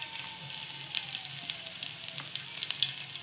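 Garlic sizzles in oil on a hot tawa, a close, steady hiss with small crackling pops throughout and no talking.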